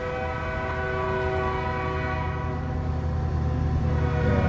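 A train horn in the truck-driving game American Truck Simulator blares as a loud, sustained, harmonically rich tone, holding steady for several seconds over a low rumbling engine bed.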